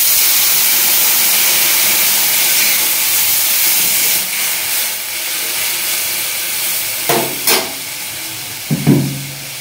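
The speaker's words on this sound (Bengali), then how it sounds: "এবার এর মধ্যে জল দিয়ে দিতে হবে।" Water hitting a hot pan of fish curry sets off a loud, steady steam hiss that fills the whole stretch, softening slightly midway, with a few sharp splashy bursts near the end.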